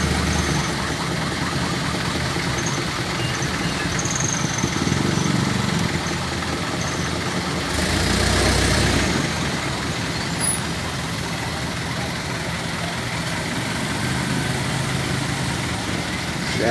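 Heavy traffic jammed on a bridge in Malaysia, trucks and buses idling in a constant low engine rumble with a louder surge of passing vehicle noise midway, steady throughout.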